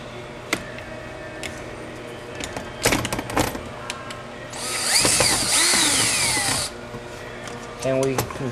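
A power drill drives the mounting screws of an ECL-230D unit into place: a sustained whine of about two seconds and a shorter burst at the end, with scattered handling clicks and knocks between them.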